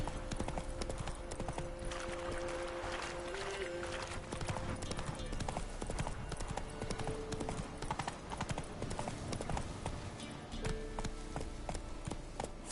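Rhythmic hoofbeats of the horse Roach galloping in The Witcher 3 swamp, a rapid continuous clip-clop up close over game ambience and music, with faint voice in the background.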